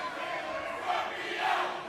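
A large indoor crowd roars and shouts continuously, a dense wall of cheering voices swelling slightly toward the end.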